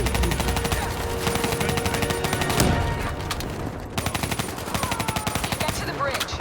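Call of Duty Black Ops 3 campaign gunfire crackles in rapid, loud bursts of automatic weapon fire with a heavier impact in the middle, the pauses between bursts filled with dense battle noise.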